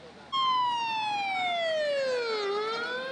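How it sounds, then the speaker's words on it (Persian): A single ambulance siren wails after an explosion, a loud steady tone sliding slowly downward, then turning back up near the end, close by and heard alone. "صدای آژیر آمبولانس ها همه را سراسیمه می کنند."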